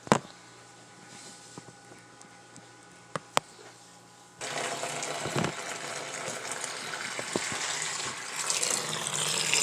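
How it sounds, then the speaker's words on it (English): Water drains from a compact washing machine's drain pipe into a bucket, starting abruptly partway through as a steady, loud gushing pour that continues to the end after a quieter stretch with a few clicks. "You got to put it on drain first, and then just take the pipe and just put it in a bucket or something, or in the tub or toilet"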